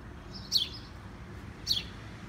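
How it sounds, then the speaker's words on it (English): Two short, high chirps from a small bird, about a second apart, over a faint low background hum. "That little bird there is sure making a lot of noise."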